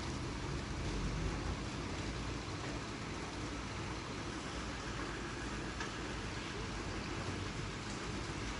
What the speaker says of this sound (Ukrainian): Перший дощик після спеки.